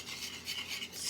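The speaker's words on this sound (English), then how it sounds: "stir it up till it's mixed good" A spoon stirs an egg into a coconut pecan frosting mixture in a pot, giving a soft, continuous scraping rasp with slight swells, close up and with no talking.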